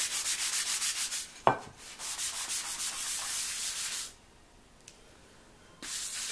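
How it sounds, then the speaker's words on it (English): Hand sanding of an aluminum enclosure for a DIY distortion pedal: quick, rhythmic rasping strokes close up, a sharp knock partway through, a short quiet pause, then the scrubbing starts again. "after about a couple minutes of randomly sanding this this aluminum enclosure"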